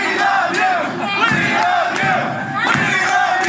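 Concert crowd at the House of Blues in Dallas roaring and shouting for a rock band's lead guitarist, a dense, loud, continuous wall of cheers and yells with no music or speech audible.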